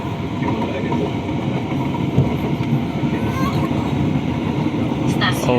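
A commuter train runs at Tambun Station, with continuous rumbling and rail clatter heard from on board. A brief higher squeal comes near the end, and faint announcement-like speech is mixed in.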